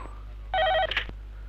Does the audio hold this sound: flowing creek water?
no